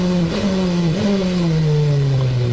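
DTM touring cars at Hockenheim in 2005 drop down through the gearbox: a loud, close engine note falls in pitch with two sharp throttle blips between shifts, then settles into a steady, lower drone.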